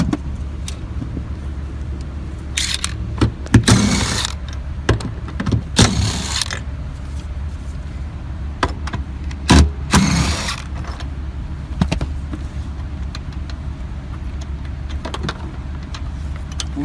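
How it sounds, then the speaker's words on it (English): Bolts being loosened with a ratchet on the rear seat of a 2016-2022 Lexus RX350: several close, sharp bursts of ratcheting clicks with metallic rattles between quieter pauses, no talking. "Loosen the bolts and pull them out."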